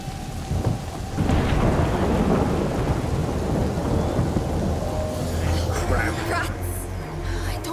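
A heavy thunderstorm with steady pouring rain and rolling thunder in A Plague Tale: Innocence, loud and continuous, with a sharper crack near the end.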